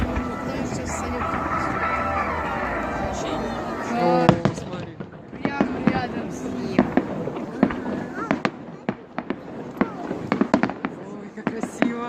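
Fireworks in a salute display burst outdoors, a string of sharp cracks and booms scattered at irregular intervals, some sizzling, while people talk excitedly nearby.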